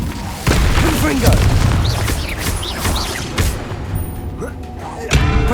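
Spell combat in Hogwarts Legacy, with a Confringo blast among repeated booming impacts and thuds over a dense game soundtrack; a voice speaks spell names during the fighting.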